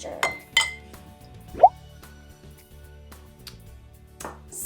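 A spoon stirs a tablespoon of coconut vinegar into about eight ounces of water in a glass, making a few bright clinks against the glass with quiet gaps between them.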